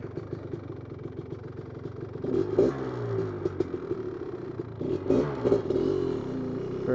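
A 1985 Honda 250R engine idles with a steady low rumble, then revs up in two short bursts around the middle and again near the end, close by with no talking.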